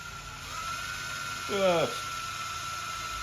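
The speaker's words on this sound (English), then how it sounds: "ever so slightly drill into the main body there." A brief drill burst bores into the main body of a three-piece take-down bow, rising in pitch for about half a second over a steady workshop hum, with a few spoken words just before.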